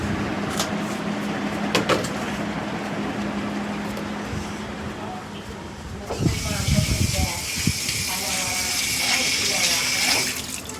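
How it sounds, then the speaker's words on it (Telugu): Hands are washed under running water, with a steady tap hiss carrying throughout, a few knocks early on, and water splashing more loudly over the hands in the second half, with a voice in the background. "ఇప్పుడు చేయి కడుక్కొని వస్తాను"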